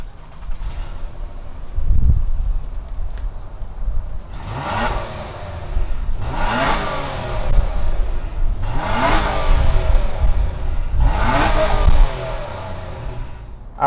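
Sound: 2020 Nissan Maxima 3.5 liter V6 engine starting and revving

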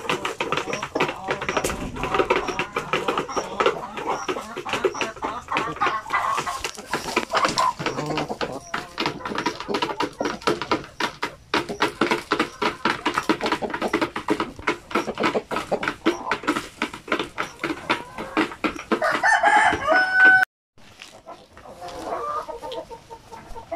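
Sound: chickens clucking and rooster crowing

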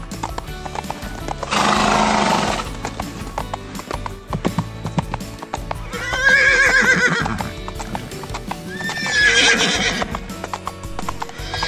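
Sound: horse ride with clip-clopping hooves

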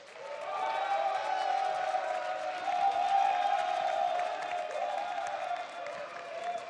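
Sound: audience applause and cheering at a drama press conference

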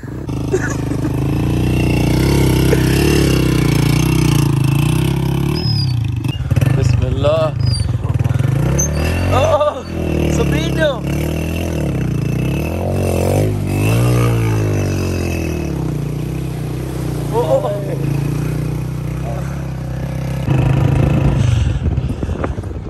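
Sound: motorcycle engine idling and revving

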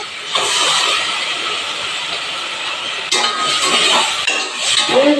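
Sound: ground paste added to hot pot, sizzling

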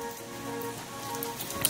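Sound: rain falling

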